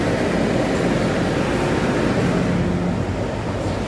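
A metro train runs between Tiu Keng Leng and Ho Man Tin, a steady loud rumble of wheels and motor filling the car with constant low roar throughout.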